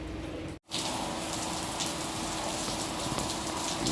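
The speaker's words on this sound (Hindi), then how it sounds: "ये देखिए कितनी तेज़ बारिश हो रही है यहाँ।" Heavy morning rain pours down steadily outside a home, a dense, even hiss that stays loud and close throughout, broken only by a split-second dropout near the start.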